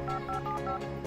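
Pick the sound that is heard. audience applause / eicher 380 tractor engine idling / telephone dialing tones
telephone dialing tones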